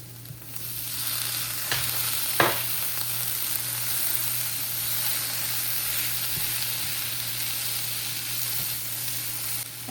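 Peas tipped into spiced masala frying in a pan produce a continuous close sizzle with a couple of brief stirring clicks early on, steady for ten seconds.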